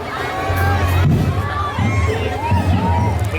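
Dense outdoor crowd noise at the Sinulog festival in Cebu, Philippines, with cheering, shouts and whoops rising and falling in waves and voices chattering close by.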